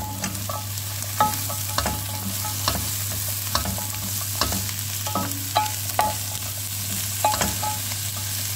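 Papaya frying in a pan for a Filipino ginataang papaya dish, with a steady sizzle under repeated scraping stir strokes of a utensil at close range.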